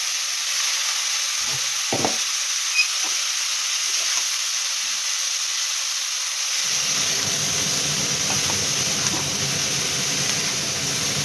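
Broccoli drops into a hot pan for a curry: a few quiet clinks first, then a steady soft sizzle and hiss of frying rises and carries on to the end, with no voices.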